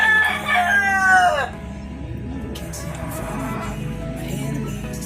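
A rooster crows once, loud and close, at a breeding farm, followed by a busy background of other fowl and indistinct voices.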